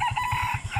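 A rooster crows in a short, loud burst close by, with rapid pulsing clucks beneath it, at a spring resort in Cavite.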